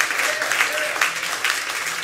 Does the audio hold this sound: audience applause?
yes